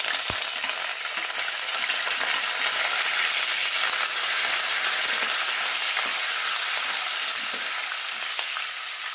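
Tempering of mustard seeds, curry leaves, chana dal, urad dal and a dried red chilli sizzles and crackles steadily in hot oil, a dense close hiss with scattered pops and light stirring clicks, no talking.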